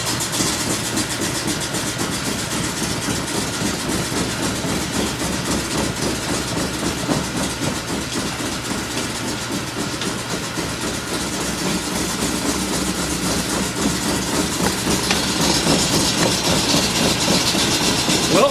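Frantom saw running with its gears spinning, a steady loud mechanical drone with a fast rhythmic rattle that continues throughout and grows slightly louder toward the end.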